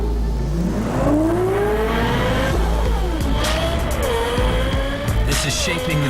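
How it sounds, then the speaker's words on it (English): A Lexus supercar engine, acoustically tuned with Yamaha, revs loud and close, its pitch sweeping up and down through several climbs and drops over about six seconds. "partnering with the craftsmen at Yamaha Music to acoustically tune our engine"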